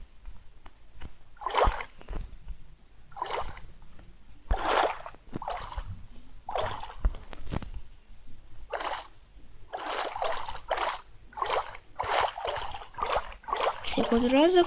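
A boat rowed across water in the Minecraft video game, with repeated swishing paddle strokes in a rhythmic series that quickens toward the end, while a person talks intermittently.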